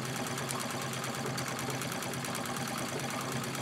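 A sewing machine free-motion quilting a feather pattern on stiff, interfaced gold fabric, its needle whirring in a steady fast rhythm, close and continuous throughout.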